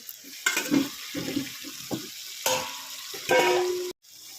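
Water poured into a pan of Lotte fish curry with fried potatoes and cooked spices, a few sloshing, splashing bursts over a sizzling, bubbling background, ending abruptly.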